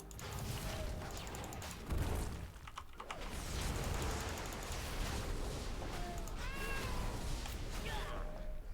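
A cat gives a few short, rising meows during an online game session, set against steady background game sounds while a person talks.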